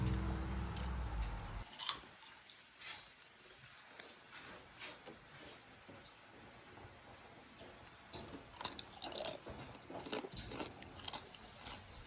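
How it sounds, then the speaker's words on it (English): Someone bites into and chews fried cassava chips, giving close, repeated crisp crunches in an irregular rhythm, quiet overall, with a brief louder noise at the start. "Listen to that crunch."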